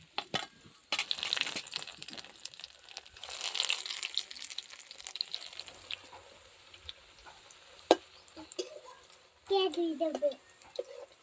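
Soybean cutlets fry in a pan over low heat, giving a crackling, bubbling sizzle with bursts of louder spitting and clinks of stirring, close by; a voice is heard briefly near the end.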